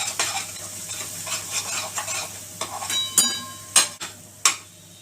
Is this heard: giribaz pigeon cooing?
no